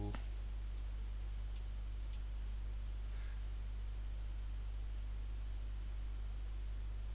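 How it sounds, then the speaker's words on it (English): Several quiet, crisp computer mouse clicks sound near the start while software is being set up on a PC, over a steady low electrical hum and faint hiss, with no talking. "Just need to right click on the setup and click yes."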